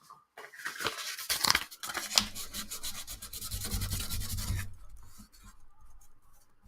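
High-grit sandpaper rubs back and forth over new frets on a vintage classical guitar, a close, dry scratching in quick strokes, followed by a low steady hum and then quiet.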